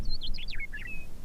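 A bird on Antelope Island by the Great Salt Lake sings a quick, clear phrase of high, sliding chirps and whistles, close and distinct over a low outdoor rumble.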